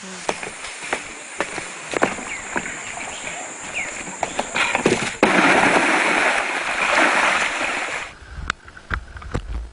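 Sago log sections being moved along a river on Meranti island, with irregular water splashes and knocks, then a sustained louder wash of churning water before sharper clatters near the end.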